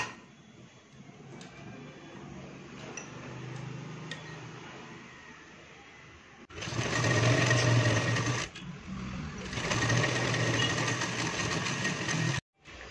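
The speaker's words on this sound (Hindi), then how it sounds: "इसके ऊपर से हम सिलाई लगा देंगे।" A sewing machine stitches a women's shirt collar, running in two loud, close bursts of rapid rhythmic whirring with a brief stop between them, after quieter handling sounds.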